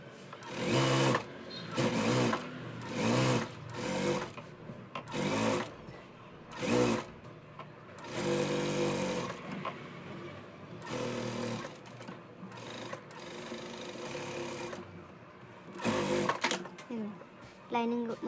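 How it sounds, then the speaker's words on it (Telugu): A sewing machine stitches Punjabi dress cloth in repeated loud whirring bursts of one to two seconds, with a longer steady run midway and pauses between, close up. A person talks in the gaps. "ఇలా పెట్టేసుకొని ఇప్పుడు కుట్టేసుకుందాం."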